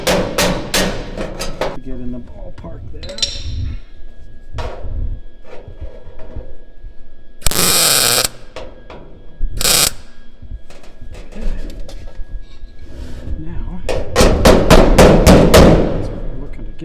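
Hammer and dolly shaping the steel fender of a Porsche 356 during restoration, with sharp, loud metallic strikes in bursts, a dense rapid run at the end, and someone talking briefly between blows.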